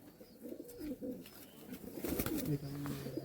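Madrasi high-flying pigeons at a pigeon sale in Mecheda, Purba Medinipur, give soft, close, repeated coos and murmuring calls over low background noise.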